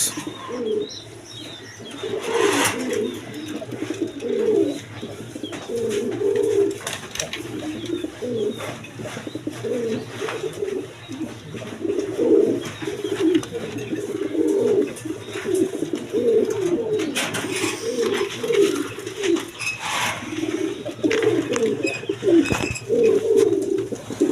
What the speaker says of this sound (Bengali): এটা রাজগোলা মাদি কবুতর